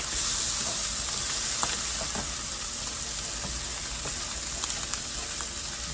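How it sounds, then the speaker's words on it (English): Food fries in a pan while being stirred until crispy brown, a loud continuous sizzle with occasional faint scrapes and taps from stirring, steady throughout. "I'm just going to keep stirring it, and this is getting that crispy brown"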